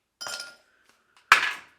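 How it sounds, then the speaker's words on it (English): Ice clinking into a glass in two distinct strikes, each a sharp bright clink that rings briefly and fades, close and clear with quiet between them. "We'll add some more ice into this glass here."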